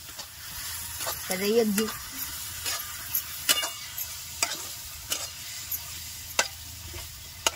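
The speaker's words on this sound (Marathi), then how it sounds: "आपण एवढा मसाला टाकून घेणार आहे आपण आता त्याला तळून" Spice masala frying in a pan, with a steady soft sizzle and a run of distinct scraping stir strokes at uneven intervals, close by, while a voice speaks briefly near the start.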